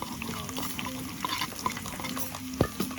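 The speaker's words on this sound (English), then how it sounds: "That garlic and the onion we will cook until slightly brown." Chili, garlic and onion fry in a pan at an outdoor Balinese cooking class, giving a soft, close sizzle under repeated scraping stirs and a sharp utensil knock near the end.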